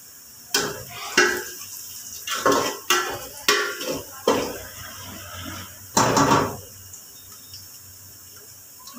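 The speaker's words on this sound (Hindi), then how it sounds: "हमारे प्याज ब्राउन हो रहे" Onions browning in a pan are stirred with a metal utensil, giving repeated clanks and scrapes against the cookware over a faint background sizzle.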